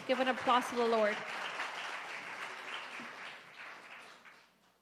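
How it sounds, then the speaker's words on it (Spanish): A church congregation breaks into applause after a prayer, with a spoken or chanted voice over the opening second before the clapping carries on as a softer, fairly distant wash that fades away toward the end. "Fuerte ese aplauso al Señor."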